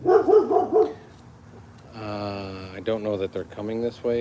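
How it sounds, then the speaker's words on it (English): A family dog barks indoors, first in a quick burst of several loud barks, then in a string of yips and barks after a short pause, while someone talks over them. "That's our dog."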